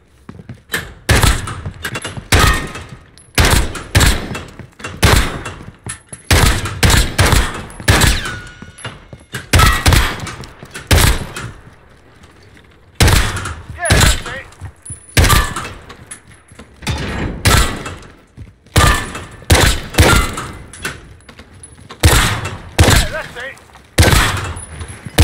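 Rapid gunfire in Call of Duty Modern Warfare on a gun course trial: loud, close bursts and single shots in quick clusters, separated by short quiet gaps, repeating across the whole stretch.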